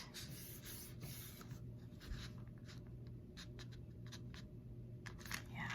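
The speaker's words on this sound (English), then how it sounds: "this piece of paper and we're gonna fold it exactly in half" A sheet of paper is folded exactly in half for a paper sculpture, giving quiet, close rubbing and scratchy creasing sounds in short uneven strokes against a faint background hum.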